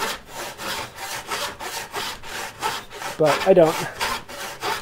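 Hand saw cutting through wood on a turning-saw handle build, steady repeated back-and-forth strokes about twice a second, close and fairly loud, with a brief spoken phrase near the end.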